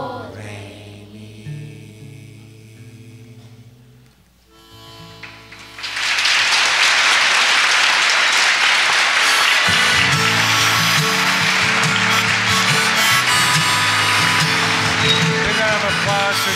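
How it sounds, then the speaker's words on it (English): Applause for a sixth grade class at a community celebration in International Falls, Minnesota: music fades, then dense, loud, sustained clapping swells in and continues for about ten seconds with instruments faintly underneath. "Big round of applause for Karen Swinson, 6th grade class."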